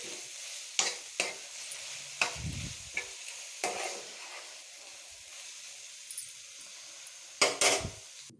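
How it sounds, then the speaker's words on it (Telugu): Mint is stirred into tomatoes cooking in a pan for tomato chutney, giving a soft hiss of frying with scattered scrapes and knocks of a spoon against the pan at uneven intervals, close and moderately loud. "దీంట్లోనే పుదీనా వేసి కలుపుకోవాలి కాసేపు కాసేపు మగ్గించుకుంటే సరిపోతుంది"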